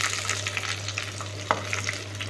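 Small onions and curry leaves fry in hot oil for a village-style fish curry in a clay pot, a continuous close sizzle broken by light stirring scrapes.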